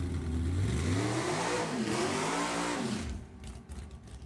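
An NHRA drag racing car launches down the strip at the 2023 Sacramento Pacific Nationals with a loud, close, rising engine roar that suddenly drops away as it speeds off into the distance.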